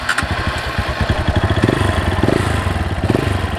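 A motorcycle engine starts up and settles into a steady idle with a throbbing low pulse, close and fairly loud, with no talking.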